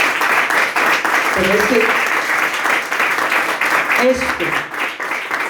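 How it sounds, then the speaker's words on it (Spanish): A church congregation claps as an offering of applause to God, a dense steady wash of many hands throughout, with someone speaking briefly over it. "Démosle otra vez una ofrenda de palmas a nuestro buen Dios."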